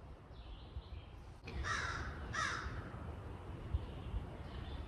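Crow cawing twice at a distance outdoors during a spring turkey hunt, two harsh calls carried over steady wind noise.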